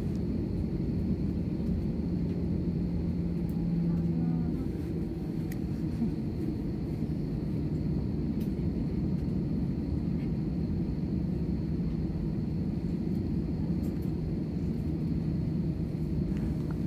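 Steady low roar of an airplane taking off, heard from inside the passenger cabin, a constant muffled rumble throughout with no voices.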